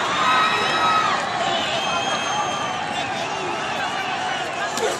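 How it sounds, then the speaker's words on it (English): A boxing arena crowd at a Canelo Alvarez fight gives off a broad, continuous roar of voices and whistles, sustained throughout beneath a commentator speaking. "The crowd saying, give us something. Wake us up."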